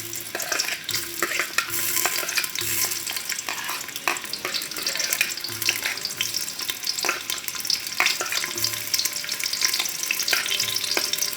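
Onions frying in ghee in a cooking pot, giving a dense continuous sizzle with repeated stirring scrapes throughout, steady and fairly close, with no talking.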